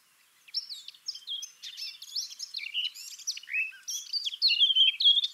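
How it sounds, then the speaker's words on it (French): A Eurasian blackcap sings a lively, melodious warble that builds in volume and breaks into louder fluty notes near the end, close and clear with no other sounds. "Vous entendez le crescendo vers un chant plus flûté. C'est la fauvette à tête noire."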